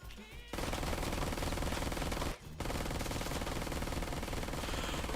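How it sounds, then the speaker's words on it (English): Sustained automatic gunfire in the video game Ride to Hell: Retribution, a loud, dense rattle of rapid shots that cuts out briefly, then resumes at full intensity. "Okay, we're just shooting stuff."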